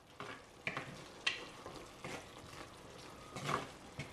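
A Sri Lankan long beans curry bubbles softly in a pot while a spoon stirs it, giving faint, irregular scraping strokes over a low simmer, close and quiet with no speech.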